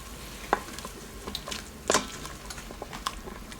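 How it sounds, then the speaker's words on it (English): A spoon stirs a red wine reduction in an Instant Pot, with scattered knocks and scrapes against the pot over a soft, low simmering hiss, near and fairly quiet. "Give it a nice stir."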